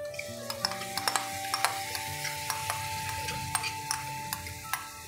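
Beaten yogurt being stirred into frying mixed vegetables in a kadai, with steady sizzling and repeated sharp scraping ticks of a spoon against the pan, close and continuous.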